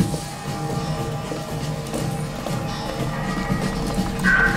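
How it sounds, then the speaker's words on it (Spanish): Clip-clopping hooves of a mechanical horse in Bioshock Infinite, a steady rhythmic trot over a busy game soundscape of ambient city noise, moderately loud and without speech. "Es un caballo mecánico, vale."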